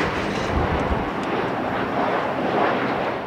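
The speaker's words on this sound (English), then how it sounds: "how much he would like all these airplanes overhead" An airplane passes overhead with a steady, broad, distant engine roar that stays even throughout and carries a light wash of wind noise.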